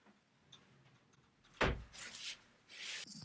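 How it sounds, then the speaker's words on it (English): A door swung shut indoors during an online chat, giving one sharp thud followed by a brief rattle and some rustling, heard alone at moderate loudness in an otherwise quiet room. "I'll just close the door."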